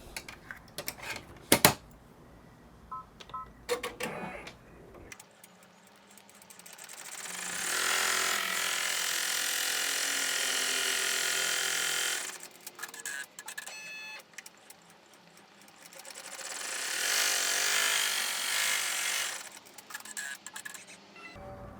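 Embroidery machine stitching an applique tack-down outline for an in-the-hoop passport cover, a steady high mechanical whir in two long runs separated by brief pauses, with faint handling clicks at the start.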